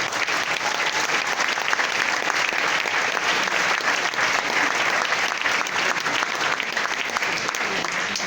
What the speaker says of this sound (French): je suis vraiment content d'applaudir